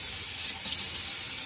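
Water runs steadily from a tap, a smooth, close hiss that continues for the whole short moment.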